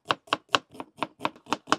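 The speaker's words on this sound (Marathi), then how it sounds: "कांदा कट करून झालाय ग्रेव्ही साठी" Onion being chopped with a knife on a board for a Malvani village-style fish curry gravy, eight crisp, evenly spaced chops in a steady quick rhythm, close and clear with no talking.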